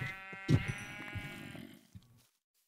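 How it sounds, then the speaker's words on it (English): Sheep bleat in Minecraft, a few close, wavering cries bunched together and then fading away, with no talking over them. "These sheep are annoying."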